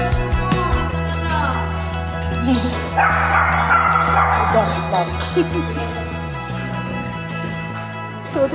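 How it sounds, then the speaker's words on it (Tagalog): A small dog yips and barks repeatedly inside a shopping mall, close and fairly loud, with people talking over the busy indoor background. "May aso lang."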